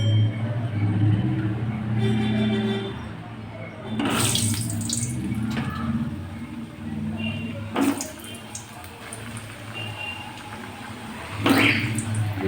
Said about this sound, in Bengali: আমি এবার এই আলুটা ভেজে নেব।